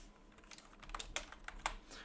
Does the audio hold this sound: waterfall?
no